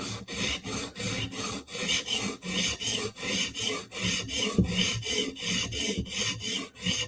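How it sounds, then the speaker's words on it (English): A knife of fairly soft steel is drawn across a sharpening stone in quick final passes to minimize the burr, producing a steady run of close, rhythmic rasping strokes with no talking. "We're gonna do one more quick pass just to kind of minimize the burr."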